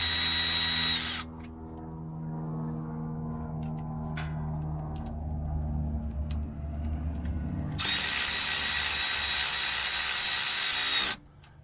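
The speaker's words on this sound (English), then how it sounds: "So a power ratchet like this really makes things go smoother." A power ratchet spins and clicks steadily as it drives the bolts of a MetalCloak differential cover on a Jeep JL Rubicon, loud and close in two bursts with a quieter stretch of rattling bolt work between them.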